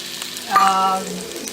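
Oil goes into a pan where colocasia leaf rolls (alu vadi) are shallow-frying, giving a steady close sizzle that swells briefly with a faint metallic ring, with no talking.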